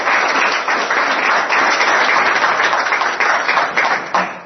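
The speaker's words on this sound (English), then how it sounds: "let's give a big round of applause" An audience at a Rotary club talk bursts into sustained, dense applause, loud and even throughout before tapering slightly at the end, with no voices over it.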